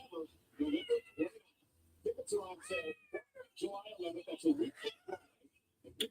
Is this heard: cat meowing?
yes